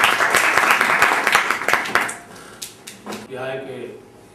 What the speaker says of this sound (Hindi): आपसे गुजारिश है कि तालियों के साथ उनका स्वागत करें।